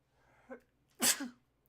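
A single loud sneeze, preceded by a short sharp intake of breath, close to the listener in an otherwise quiet room.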